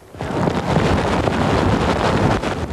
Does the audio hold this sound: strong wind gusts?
yes